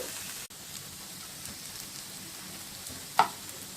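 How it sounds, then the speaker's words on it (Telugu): Carrot and potato pieces fry in a pan with a soft, steady sizzle throughout, a brief stirring scrape near the end, close and fairly quiet. "మధ్య మధ్యలో కలుపుతూ వేయించుకోవాలి."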